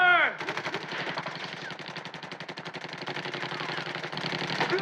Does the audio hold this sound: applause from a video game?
no